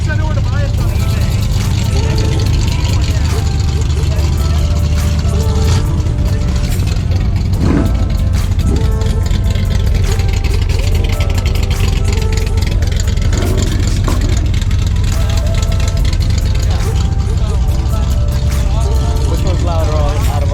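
A modified high-horsepower engine at a Pistons at the Park car show idles with a choppy, rumbling lope, loud and steady throughout, with crowd noise and people talking over it.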